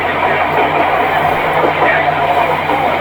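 A Dhaka to Cox's Bazar passenger train running, heard as a loud, steady rumble and rattle that never lets up, with a possible voice faintly under it.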